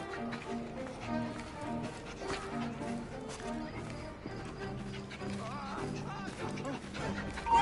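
Dog barking in Assassin's Creed Syndicate, a few short barks and yips scattered over game music and ambient street noise, with voices talking in the background.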